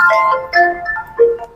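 A phone ringtone plays a short electronic melody of bright, stepping tones, loud and close, with no voices over it.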